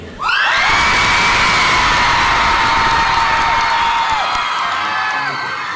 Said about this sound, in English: I want you to scream for me.